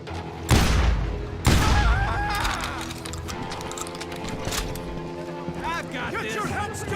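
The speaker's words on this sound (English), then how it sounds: "They're shooting in the street." Gunfire rings out in a Wild West street in the Call of Juarez Gunslinger video game: two heavy booming shots open the scene, followed by scattered shots and clattering impacts, with someone talking over the action.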